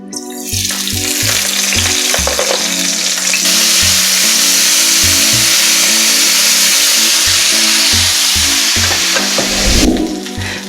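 Cauliflower fries loudly in a hot pan, a dense, continuous sizzle that holds steady throughout, broken by a repeating series of low thumps and clatters, with a brief burst of extra spitting near the end.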